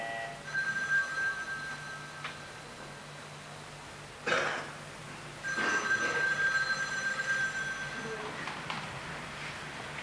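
A telephone rings in repeated electronic trills under a muffled, noisy background, with a harsh burst midway before the ringing resumes.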